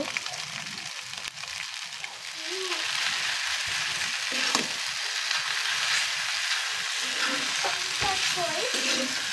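Noodles with spices sizzling in a pan while being stirred, with scraping and clinking of the utensil through a steady frying hiss that swells after a couple of seconds.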